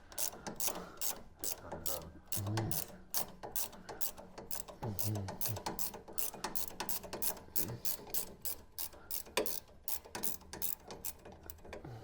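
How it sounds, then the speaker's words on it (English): A ratchet clicks in rapid repeated bursts, close and fairly quiet, while a front suspension strut nut on a Land Rover Freelander 2 comes undone with the strut's centre held by a 5mm hex Allen key. Brief low voices come through between the clicks. "5mm hex Allen key, that's it, and then you can hold the middle still so the nut undoes"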